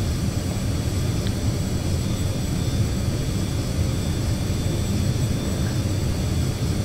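A Carenado 525A Citation CJ2 jet in the Prepar3D flight simulator holds a steady, loud engine roar with a broad low rumble and a faint high whine while taxiing toward runway 27 in a snowstorm.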